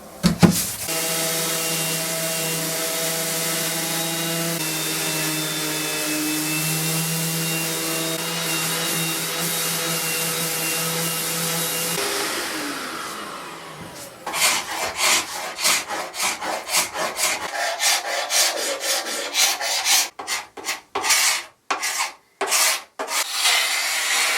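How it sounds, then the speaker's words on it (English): An electric sander grinds steadily against the wooden cross braces of a 1950s Jentique writing bureau to strip the old finish, a loud, close, continuous whirr that shifts pitch and then breaks into rapid rubbing strokes. "I'm just going to use a sander to get this finish off."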